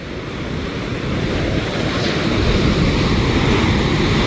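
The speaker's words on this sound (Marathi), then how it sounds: "पाण्याचा आवाज येतो जोरदार" A roaring waterfall near Kas lake pours with a loud, dense, unbroken rush of water, steady and close, with wind buffeting the microphone.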